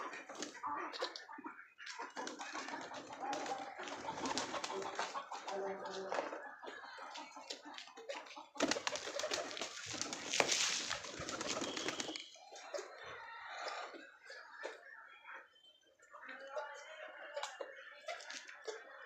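Pigeons coo in a home loft kept with Lakka, Lotan and Giribaz breeds, a soft, busy murmur of calls running throughout with voices talking at times.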